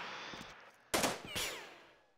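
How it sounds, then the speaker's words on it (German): A gunshot in the tactical video game Jagged Alliance 2 (1.13 mod) sounds as a sharp, loud crack with an echoing tail, followed by a second, smaller impact burst, after a stretch of quieter game ambience. "Naja, dann wird es eben nur ein Schuss."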